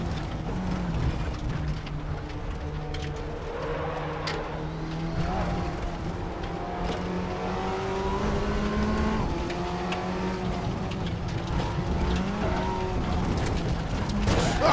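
An Audi TT Cup race car engine, driven in the RaceRoom racing game at Oschersleben, drones and shifts through rising and falling revs as the throttle eases off before braking, loud and continuous, with other cars faintly around.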